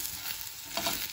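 Onion frying in oil for a tortilla with egg, a steady broadband sizzle with stirring scrapes, brief and close with no talk.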